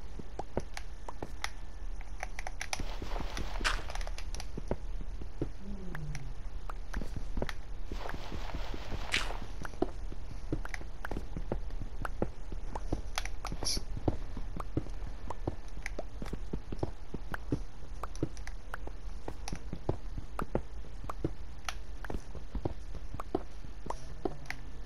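A horse walks on gravel, its hooves crunching in a steady, irregular plod at close range with scattered scraping steps and no talk.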